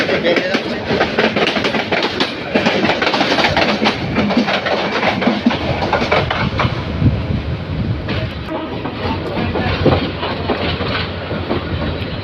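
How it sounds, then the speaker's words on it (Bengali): A mail train rolls into Kamalapur railway station in Dhaka after passing the outer signal, its loud, close wheel clatter and rumble continuous throughout with rhythmic clicks over the rail joints. "কমলাপুর রেল স্টেশনে প্রবেশ করছে ঢাকা মিল ক্যান্টিন আউটার সিগন্যাল অতিক্রম করে কমলাপুর রেল স্টেশনে প্রবেশ করছে"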